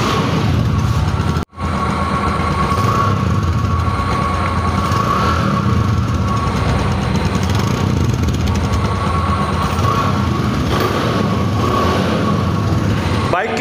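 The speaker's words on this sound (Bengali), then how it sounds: "বাইক কিন্তু এখন স্টার্ট অবস্থায় আছে। বাইকের ডিসকভার 100-এর যে অরিজিনাল সাউন্ড," A used Bajaj Discover 100 motorcycle idles close by with a steady, unbroken engine drone, interrupted by a very short dropout, while someone talks over it.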